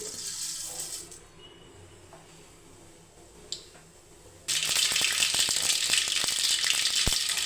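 Mustard seeds frying in hot oil in a kadai, a soft crackle that jumps to a loud, dense sizzle with sharp popping spatters partway through.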